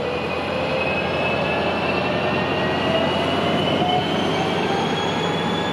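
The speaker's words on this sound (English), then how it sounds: "There goes the charger." An Amtrak Pacific Surfliner train led by a Charger locomotive passes close by with a loud, steady roar of rolling wheels and a thin, sustained squeal of wheels on the rails.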